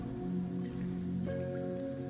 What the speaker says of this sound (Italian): Vedi il tintinnio dell'acqua che gocciola.